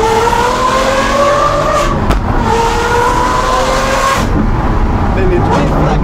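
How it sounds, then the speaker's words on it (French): A Lamborghini Aventador SVJ, a V12 supercar tuned by Gintani, revs loudly with sharp rising engine pitch sweeps and a sudden crack at each gear shift, heard close up with people talking over it. "Les déflagrations au passage de vitesse, c'est incroyable."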